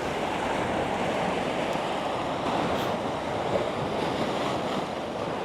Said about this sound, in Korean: 너울이 많이 쳐서